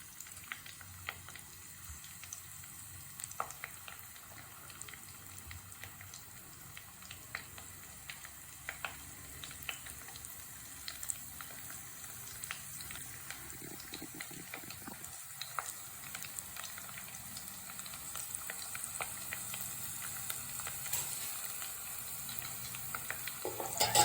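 Ginger garlic paste fries in a pan for a South Indian anchovy thoran, a quiet, continuous sizzle with scattered pops and light stirring over a long stretch.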